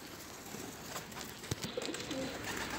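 Homing pigeons coo softly amid steady background noise, with a few brief clicks and flutters, close by and without talk.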